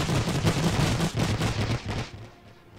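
Gunfire from a World War I video game: dense, continuous rattling volleys of rifle and machine-gun shots, loud and close, thinning out toward the end.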